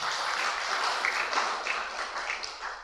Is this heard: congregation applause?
yes